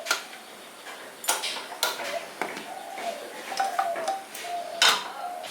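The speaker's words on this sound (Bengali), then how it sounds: "এবার গ্যাসটা অন করে নিচ্ছি, দিয়ে কড়াইটা বসিয়ে দিচ্ছি।" A metal karahi pan being set on a gas stove, giving a few sharp metallic clanks and light ticking clicks at close range, with a voice talking throughout.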